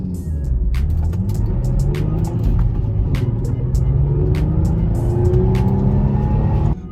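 An Infiniti G35 Coupe is being driven, its engine droning steadily and close with low rumbling tones and shifting revs, plus light road and cabin noise, with no talking.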